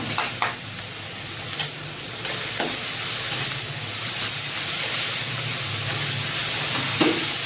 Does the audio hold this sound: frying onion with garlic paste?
yes